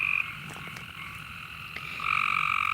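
Frogs croak loudly in a continuous chorus of outdoor nature sounds, their overlapping high trilling calls steady and close, swelling louder near the end, with no one talking.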